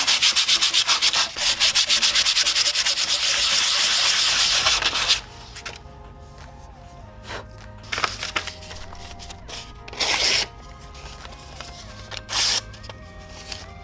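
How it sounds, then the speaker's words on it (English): Light 160-grit sandpaper scrubs a hardened steel karambit blade made from a wrench, with steady rapid back-and-forth rasping strokes close up, then a few short scraping passes separated by pauses. "Now I'm gonna sand off all the caca with some pretty light grit sandpaper."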